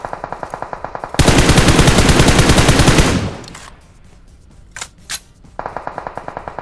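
Rapid automatic gunfire in PUBG Mobile on the Sanhok map, a loud sustained burst of evenly spaced shots, then a quieter stretch with a couple of single thuds before another rhythmic volley begins.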